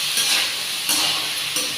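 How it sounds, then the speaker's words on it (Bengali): Four green chillies fry in a pan, a steady sizzle with scraping stirring strokes at regular intervals, close and loud, with no talk. "এটা ভাজা ভাজা হয়ে গেছে"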